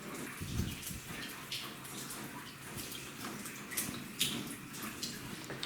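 Water drips and trickles in a quiet space, a few soft irregular drops and splashes over low background noise.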